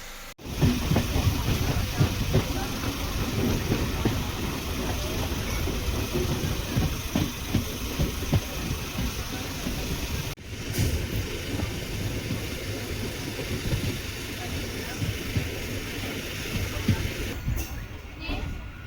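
A MEMU passenger train on the Tiruvannamalai to Tambaram route runs with a continuous loud rumble and hiss from inside the coach, brief dips breaking the steady noise, and voices faintly mixed in.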